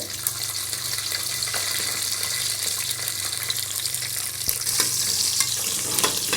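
Shallots and garlic sautéing in oil with mustard seeds and cumin for sambar, an even, loud, close sizzle with faint stirring scrapes and a couple of sharper knocks near the end, no voices.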